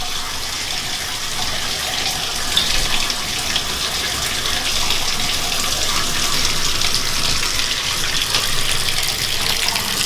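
Hot water gushes from a bathtub faucet in a steady, close, full-bodied stream that runs unbroken throughout.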